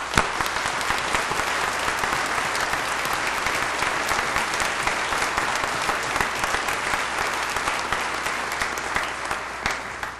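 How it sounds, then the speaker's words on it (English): Audience at a Dakota State University fall commencement applauds the graduates with sustained, dense clapping from a large crowd, steady throughout. "join me in applauding your success"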